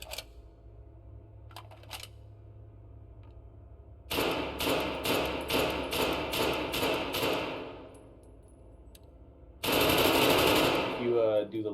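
Rapid gunfire from the EBR rifle in the video game Dead Matter, with two loud bursts of sharp repeated shots separated by a quiet stretch and occasional clicks, while a person talks.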